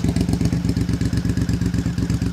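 A Triumph Bonneville Scrambler motorcycle engine runs close by with a loud, rapid, throbbing pulse, steady and unbroken throughout.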